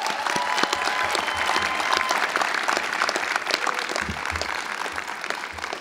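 At a William Howard Taft class graduation ceremony, graduates cheer and applaud for family and supporters, a sustained roar of dense clapping with scattered whoops from a large crowd.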